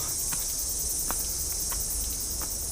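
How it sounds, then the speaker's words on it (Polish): Continuous high-pitched buzzing drone of cicadas on New Zealand's North Island, loud and steady throughout, with a few faint clicks and soft taps underneath. "Słuchajcie, jak cykady haratają"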